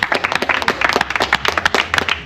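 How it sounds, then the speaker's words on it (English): Audience clapping for studio guests, a lively burst of many hands with distinct sharp claps layered densely and close, steady across the whole stretch. "Give them a round of applause, please."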